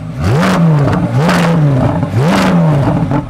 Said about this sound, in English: You might think it's a bit of a shame that the Z06 has a soft limiter, so when you rev it, it doesn't go very high.